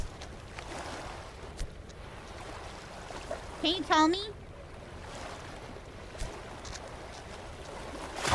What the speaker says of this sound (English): The water is too fucking loud and it sounds like rushing river water